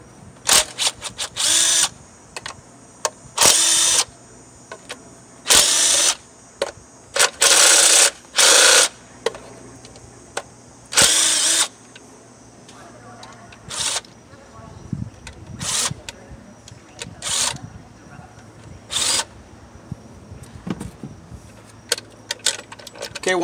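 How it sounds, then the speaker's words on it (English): A 10 mm socket on a ratchet or power driver removes the engine cover on a 2007 Saturn Vue. Several loud bursts of tool whirring sound up close, with clinks and rattles between them and someone speaking at times. "So we have to remove this cover first. And I'm using a 10 millimeter socket."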